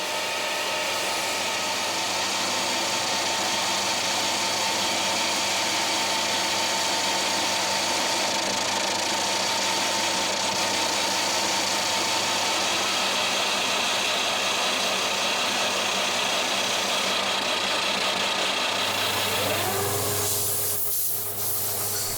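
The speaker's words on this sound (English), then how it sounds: "The lathe spins the wood really fast and a sharp blade cuts the edges off" A wood lathe spins a block of wood while a sharp blade cuts the edges off to round it, giving a steady loud whirring hiss that holds for about twenty seconds before the pitch shifts and winds down.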